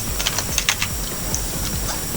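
Keys on a computer keyboard are tapped in a quick, uneven series of close clicks that runs for about two seconds over a low background hum.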